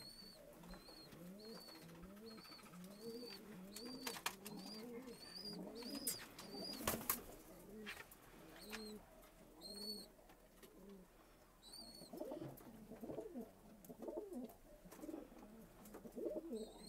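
Pigeons coo repeatedly at a pigeon loft in Vellore, a steady layered chorus of soft throaty calls running throughout, with a few higher chirps and light background clatter.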